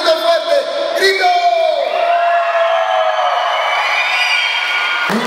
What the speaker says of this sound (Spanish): A ver, quiero un grito fuerte.